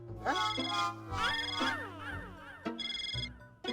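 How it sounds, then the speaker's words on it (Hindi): A melodic electronic ringtone plays in a repeating pattern of bright tones and sweeping notes, fairly close and clear, with a brief pause before it resumes. "मेरे फोन में घंटी बज रही है"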